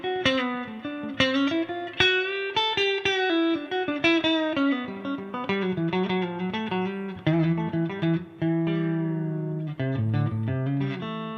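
Clean first-voice tone from an electric guitar fitted with Gristle tone pickups, playing a clear, sustained melodic phrase with picked notes and chords, steady and close with no talking.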